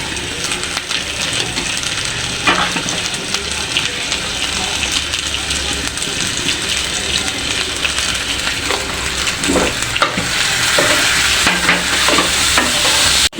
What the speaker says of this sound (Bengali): লবণ হলুদ দিয়ে আমি চিংড়ি মাছটা ভেজে দিব।